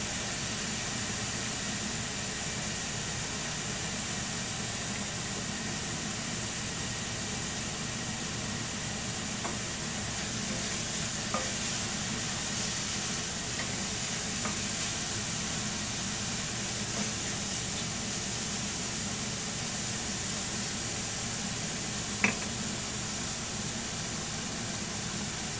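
Mushrooms frying in oil in a pan give a steady, even sizzle and hiss that runs unbroken, with a few faint clicks and taps scattered through.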